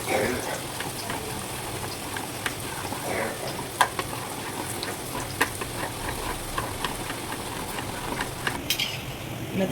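Boondi batter drops through a perforated ladle into hot oil, giving a steady crackling sizzle of frying with scattered pops and clicks, continuous and close.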